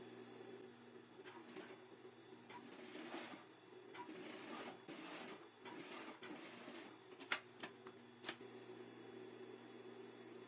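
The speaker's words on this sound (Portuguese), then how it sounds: "vou prespontar o tecido estampado com a distância de um pezinho de máquina" A sewing machine runs steadily while topstitching printed fabric one presser-foot width from the edge, a quiet continuous mechanical whir with a few sharp ticks near the end.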